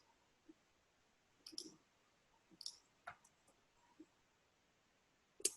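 A computer mouse clicks quietly and sporadically, with half a dozen soft, close ticks spread unevenly over a few seconds against near silence.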